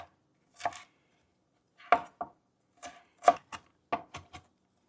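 Garlic chopped by hand with a knife: sharp, close, separate chops in small uneven bursts with quiet gaps between, and no talk.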